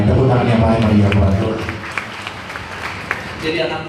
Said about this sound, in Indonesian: Tepuk tangan yang baik bagi Tuhan